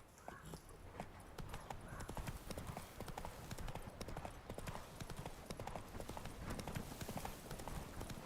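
In The Witcher 3, the horse Roach moves at a brisk gait, and dense, rhythmic hoof clip-clops run steadily throughout, close and moderately loud.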